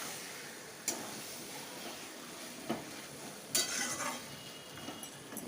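Mutton sautéed in spice masala in a pan for a Bengali mutton curry, a faint steady sizzle broken by a few sharp spoon-on-pan clinks, with no voices.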